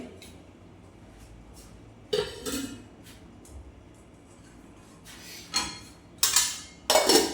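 Pots, pans and utensils being washed clatter and clink in sharp, irregular bursts, some loud and close, separated by quieter stretches of faint background noise.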